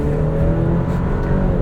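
The engine of a 2025 Alfa Romeo Stelvio Tributo Italiano AWD hums steadily while driving, an even, moderately loud drone heard from the cabin with no talk.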